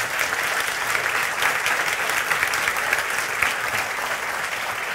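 A church congregation applauds steadily during a Christian sermon service, a dense, even wash of clapping from many hands that holds without a break, with no voices over it.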